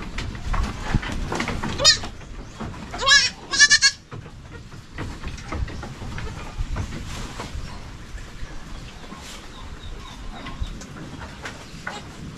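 Several short bleats from a goat, two or three close together, over a low background rumble and faint outdoor noise.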